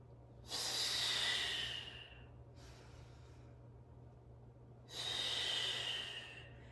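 Deep, slow breaths during a mat Pilates workout: two long, loud airy exhales with a fainter inhale between, close to the mic over a steady low background hum, no talking.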